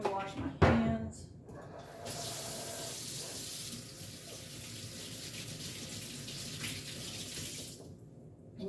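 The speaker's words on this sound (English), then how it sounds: "Let me wash my hands." Tap water runs steadily into a kitchen sink as hands are washed, a continuous gushing wash after a brief clatter at the start, with a voice briefly heard early on.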